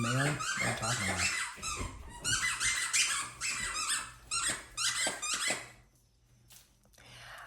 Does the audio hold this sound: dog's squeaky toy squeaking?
yes